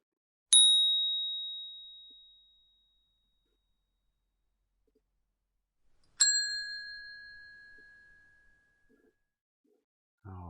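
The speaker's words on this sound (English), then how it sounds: "A bike bell. Those are always fun." A bicycle bell as a sound sample: two separate clear dings several seconds apart, each bright and close with a ringing tail that fades out, against silence.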